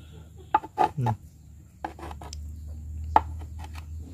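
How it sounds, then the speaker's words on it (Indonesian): Silk worms (tubifex) minced with a blade for betta fish food, a few sharp close chopping taps and scraping strokes, irregular and separated by quiet gaps over a low background hum. "cincang lagi, cincang gitu terus sampai benar-benar si cacingnya ini halus"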